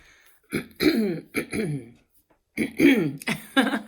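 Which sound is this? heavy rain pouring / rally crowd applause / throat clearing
throat clearing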